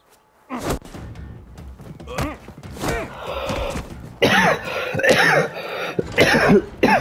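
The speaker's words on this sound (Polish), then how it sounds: "zapomniałem, że, że mam mikrofon włączony zacząłem sobie kaszleć" Harsh, repeated coughing and throat clearing erupts close into a live microphone during a game stream, loud bursts with gravelly, strained breaths between them.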